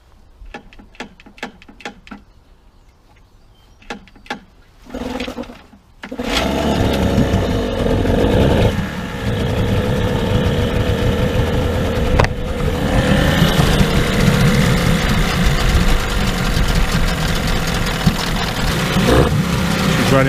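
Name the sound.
Tohatsu outboard motor starting and idling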